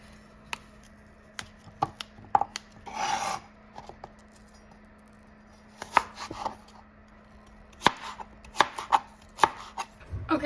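A small handheld tool cutting and dicing a washed apple into pieces for oat porridge, giving sharp irregular chopping taps and a scraping rub, close and clear with no talking.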